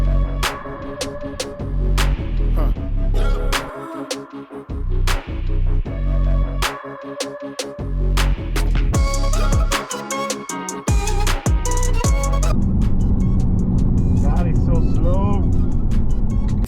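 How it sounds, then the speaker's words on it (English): A remapped TDI diesel car accelerates hard on a 0 to 60 mph run, loud engine revving with repeated gear-change breaks and a rising drone, heard from close up with some talk over it. "So we'll do this 0 to 60 run, see what we get"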